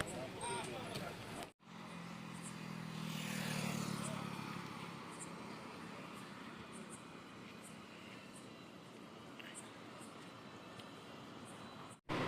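Tamil Nadu state TNSTC bus pulling away after a fifteen-minute rest break on a Yercaud to Madurai route, a steady low engine rumble building as it moves off and holding on, with a brief cut near the start and talk mixed in.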